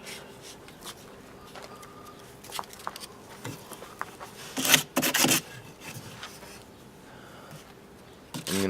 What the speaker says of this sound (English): So, fresh piece of sandpaper,